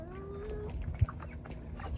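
Jersey Giant chickens on a farm giving short clucks, close and moderately quiet, with one brief louder note partway through.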